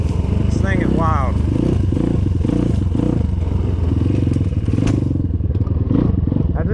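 Apollo 250rx dirt bike engine on a trail ride, a loud constant close-up drone with revving, clattering and thumps over rough ground, and a voice talking over it.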